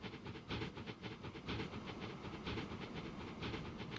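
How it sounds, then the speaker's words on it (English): A train runs in the Transport Fever 2 video game, a steady hissing rumble with rhythmic clickety-clack pulses repeating at an even pace, alone with no speech. "Our little train friend over here is running semi-full"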